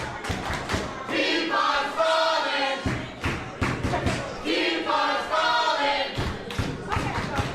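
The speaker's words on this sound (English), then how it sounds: "The crowd calling Nathalya out for stalling." A wrestling crowd at a Wrestle League lucha libre show chants at a wrestler for stalling, with loud rhythmic bursts of massed voices and scattered thuds in an echoing arena.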